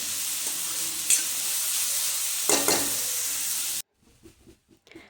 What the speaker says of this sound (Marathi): यालासुद्धा छान व्यवस्थित परतून घ्यायचं आहे